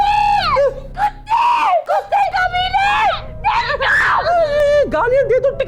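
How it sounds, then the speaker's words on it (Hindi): Two people scream loudly at close range, their shrill voices overlapping and rising and falling almost without pause. "मुझे समझ आया, दोनों चीख रहे हैं।"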